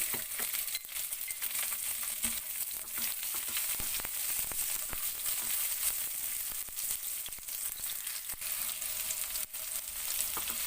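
Onion frying with garlic in a pan for chicken adobo gives a steady, continuous sizzle with occasional crackles and light stirring. It carries on alone, with no talk.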